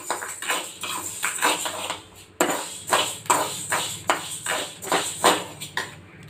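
Whole spices dry-roasting in a pan with a metal spoon stirring them, scraping and rattling in steady rhythmic strokes, close and fairly loud, with no talk over it.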